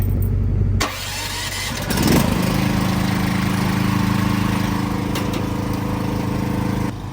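A small gasoline engine on a 14-foot, 16,000 GVWR hooklift dumpster trailer cranks with a short pull, catches and then runs at a steady, loud idle close by, alone with no talk.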